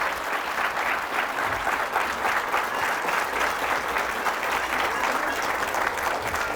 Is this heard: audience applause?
yes